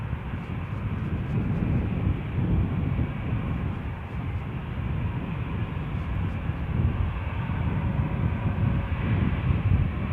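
An EasyJet airliner departs Edinburgh for Gatwick, a continuous rumbling jet roar heard at a distance, steady and moderately loud with no voices.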